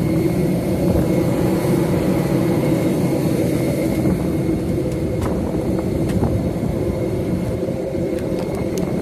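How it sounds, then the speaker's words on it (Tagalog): Airplane engine noise fills the passenger cabin, a constant low roar and hum that runs steadily with no breaks. No talking is heard over it. "Nandito na kami sa loob ng eroplano."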